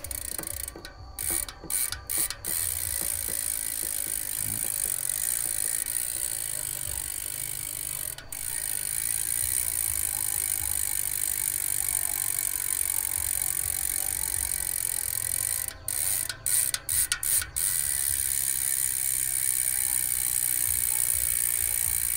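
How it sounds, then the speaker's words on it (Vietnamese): Freehub on a Bontrager Aeolus Pro 3 bicycle wheel ratcheting as the wheel is spun, a steady crisp clicking buzz with brief pauses near the start and again around the middle, close and alone without talk. "Quay thử cái cối líp cho các bác cùng nghe nhé."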